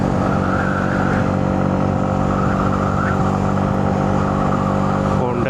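Sports motorcycle engines in Malta, including a Honda CBR 1000 RR and Kawasaki models, rev and drone loudly and continuously at close range, with engine harmonics rising and falling under someone talking.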